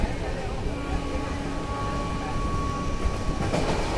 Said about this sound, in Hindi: ये हम ओवरटेक कर रहे हैं train number 64534 Panipat Ghaziabad MEMU को